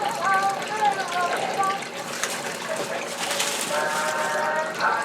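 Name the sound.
water running through a garden water feature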